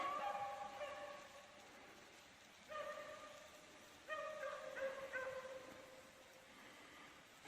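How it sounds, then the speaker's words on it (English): Hunting dogs bark and howl out in the woods, distant and faint, in a few drawn-out bursts carried through the trees with quiet pauses between them. "the more I think that those are hunting dogs and somebody's out training them"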